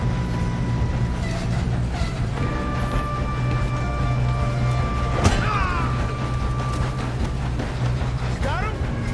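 A train from the video game Red Dead Redemption 2 rumbles along steadily with a heavy low drone and faint clanking, while voices talk over the noise.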